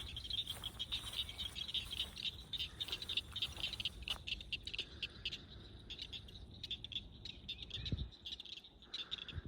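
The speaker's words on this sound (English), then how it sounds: "I'm assuming those are frogs that are kind of chirping, but it might be some sort of other insect." Frogs chirp steadily by a small pond in a rural yard, a dense high trilling chorus with scattered clicks and patter underneath, faint and continuous without speech.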